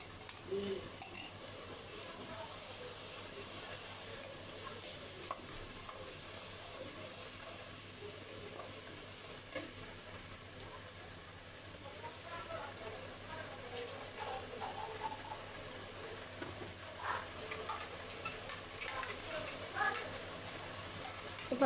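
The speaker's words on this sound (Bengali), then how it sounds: "পেঁয়াজটা হালকা ভাজা হয়ে গেলে এবার সরিষা বাটাটা দিয়ে দিব।" Mustard paste frying with onions in oil, a low continuous sizzle broken by stirring and scraping against the pan, growing slightly busier toward the end, with no voice.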